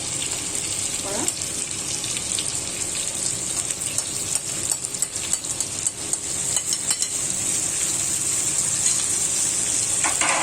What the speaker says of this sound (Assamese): মাছখিনিৰ এই তলপিঠিটো ভালকৈ ভাজি হ'লে লুটিয়াই দিম